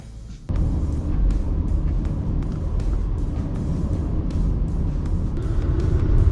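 A Honda City e:HEV on a road near Khao Yai gives a steady, close engine and road rumble with continuous tyre noise, holding an even level after a brief quieter start and no voices.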